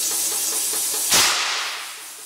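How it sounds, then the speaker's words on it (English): A bead seater cannon fires a sharp hissing air blast at a stretched 185/60R13 tire on a 13x10 wheel, one sudden burst over a steady hiss that then fades away. "I'm starting to notice that the tire is flopping around once I fire the cannon"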